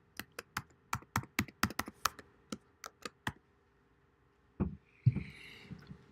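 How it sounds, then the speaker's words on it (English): Computer keyboard typing during a software install on a Mac: a run of about a dozen crisp, evenly spaced keystrokes, close and alone, then a pause and a few heavier thumps and clatters near the end. "type again"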